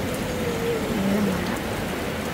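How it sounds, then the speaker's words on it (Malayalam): Heavy rain falls steadily during a trip to Wayanad, a dense, even hiss that stays constant and close with no voices. "നല്ല മഴയായിരുന്നു, അപ്പം ആ മഴയും"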